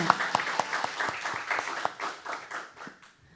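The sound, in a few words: applause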